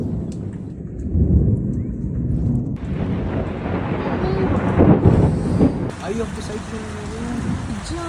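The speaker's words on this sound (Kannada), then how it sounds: "ಸಡನ್ನಾಗಿ ಶುರು ಆಗಿದ್ದು ಮಿಂಚು ಗುಡುಗು ಮಳೆ" Steady rain hisses throughout with low rumbles of thunder rolling underneath, while people talk over it.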